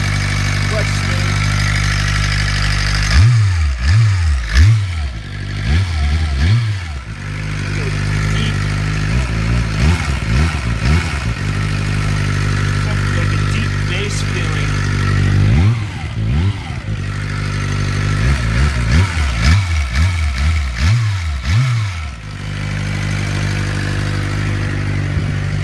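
Engine of a 2007 Suzuki GSX-R motorcycle with a whining fault, a steady close idle broken by several bursts of rapid throttle blips, with voices talking throughout.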